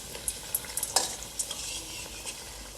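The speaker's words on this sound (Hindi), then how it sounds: "अब हम घारी को डीप फ्राई करते हैं" Ghari sweets deep frying in ghee give a steady bubbling sizzle, with a few sharp crackles and pops near the start, close and moderately loud without any voices.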